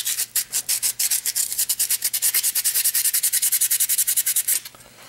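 Rapid, rhythmic sanding of a 3D-printed uPrint prototype part, a steady run of quick scratchy strokes that carries on for several seconds and then stops, close and loud with no talking.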